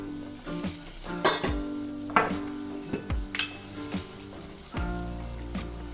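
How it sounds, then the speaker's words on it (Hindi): Chopped tomato goes into hot oil in a village kitchen and sizzles steadily, with stirring scrapes and rattles over a continuous frying hiss and a faint tonal background. "तो अब हम इसमें 1 टमाटर कटा हुआ डालेंगे"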